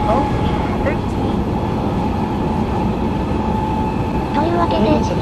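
An Odakyu MSE 60000 Romancecar express train running downhill on the Enoshima Line, with a steady, loud rumble of wheels and motors heard from inside the car throughout, and a few faint squeaks on top.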